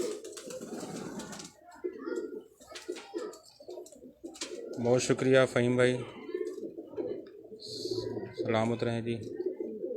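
Pigeons, Ferozpuri breed, coo softly nearby in repeated low, throaty bursts while someone talks over them.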